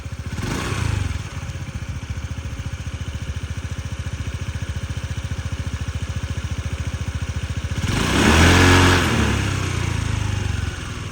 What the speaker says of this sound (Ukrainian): Чисто гарно працює двигун, без зауважень.